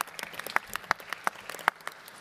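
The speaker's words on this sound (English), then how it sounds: "a special round of applause also for them" An audience at a Global Tourism Resilience Day launch event at World Expo Dubai claps, with sharp individual hand claps in an uneven scattered rhythm over a light background of applause.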